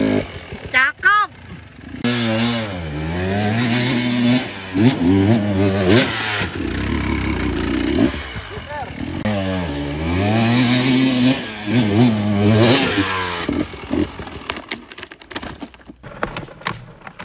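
A motorcycle engine straining and revving hard while climbing a steep hill, rising and falling in long surges close by, with a person talking over it.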